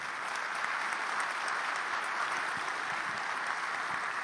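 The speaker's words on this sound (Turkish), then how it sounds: "kürsüye doğru yürüyüşü sırasında salonda kopan alkış tufanı" Party members fill a hall with a storm of applause at a Turkish party group meeting, a thick, even roar of clapping from a large crowd that carries on unbroken.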